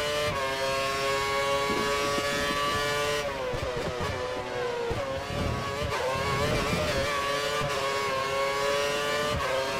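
Formula 1 car engine from the racing game F1 2013 during the Canada race, a loud sustained high-pitched whine with shifting pitch as it accelerates and changes gear, filling the whole stretch without talk.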